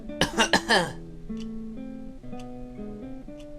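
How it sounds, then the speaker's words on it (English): Wooly, a sheep character in the video game Amanda the Adventurer, gives a quick burst of about three close, loud coughs, followed by quiet, steady background music tones. "The show consists of Wooly sitting at a table saying nothing before suddenly he coughs."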